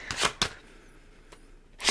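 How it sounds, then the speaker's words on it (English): Tarot cards are shuffled in a few quick, crisp riffling bursts separated by quiet pauses, close and moderately loud with no talking. "Let me do another shuffle just in case."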